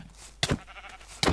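A sheep bleating in a video game: two short, nasal bleats close together, each loud and clear against a quiet background.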